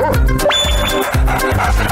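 A dog barks several times in quick succession, loud and close, each bark a short, bright yelp with a sliding pitch, over a busy background with a brief electronic tone.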